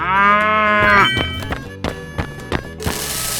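A cartoon cow gives one long, loud, tonal moo, then a series of short wooden knocks and thumps follows in a loose rhythm.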